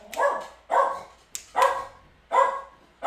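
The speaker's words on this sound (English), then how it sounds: "Those were dogs." Several dogs bark in sharp bursts, about five loud barks spaced roughly half a second apart, close by with no talking.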